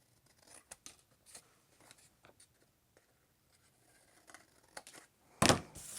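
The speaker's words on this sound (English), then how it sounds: "So I'm just going to put it on top and cut it out" Scissors snip through a shape in short, quiet, irregular cuts, followed by one louder rustle near the end.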